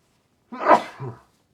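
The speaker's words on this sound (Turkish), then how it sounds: "Bir saniye hapşıracağım." A single loud sneeze close to the microphone, a sharp burst followed by a short trailing breath, otherwise silence.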